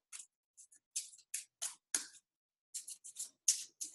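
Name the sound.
shuffling a deck of chakra cards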